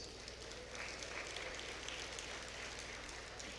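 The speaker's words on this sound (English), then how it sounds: "Please give them a round of applause." The audience at a Kenyan motorsport awards event applauds, a steady, distant roar of many hands clapping together that fills the whole stretch at an even, moderate level.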